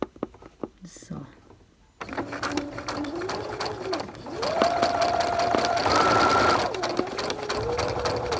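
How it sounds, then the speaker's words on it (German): An electric sewing machine stitches along an open seam of fabric, its motor whirring in rising and falling bursts after a few seconds of quiet handling noises, close and fairly loud. "und gehe da jetzt nochmal mit der Nähmaschine drüber"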